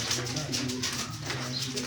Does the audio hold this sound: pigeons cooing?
yes